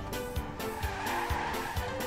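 Video game car driving with nobody at the wheel in a skating game, engine droning steadily with repeated tire skids and squeals at a regular rhythm, loud and close.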